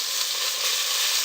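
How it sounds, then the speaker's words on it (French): Mandarin peels drop into a pan of duck already frying, giving a dense, bright, continuous sizzle that is close and fairly loud with no voices. "vous mettez vos épluchures en faisant très attention parce que la cuisson est en cours"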